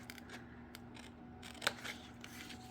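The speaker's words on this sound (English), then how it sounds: "I'm just going to take my scissors" Quiet snips of scissors through scrapbook paper, one crisp cut standing out, over a low steady hum.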